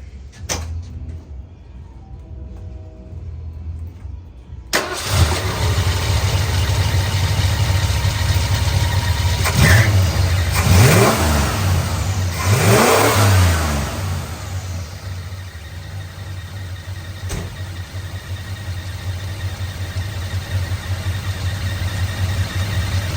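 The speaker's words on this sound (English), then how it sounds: "It's a cold start." A 1977 Ford F-150 Super Cab engine fires from cold after a quiet moment, then settles into a loud, steady idle with a few sharp revs rising and falling before holding a rough rumble to the end.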